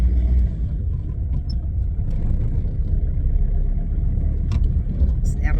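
A car drives along with its engine running, giving a steady, close low rumble from inside the cabin that holds throughout, with a voice now and then over it.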